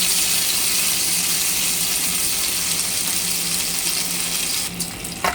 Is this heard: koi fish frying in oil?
yes